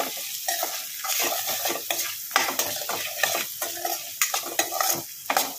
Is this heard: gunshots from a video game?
no